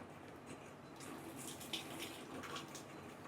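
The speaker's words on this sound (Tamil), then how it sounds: "நெக்ஸ்ட் இந்த பப்பாயை நல்லா அரைச்சாச்சு, அதையும் அதில் ஊத்துறேன்." Blended papaya juice pours into a fruit mix, a soft steady gush of liquid with faint splashing, quiet and continuous.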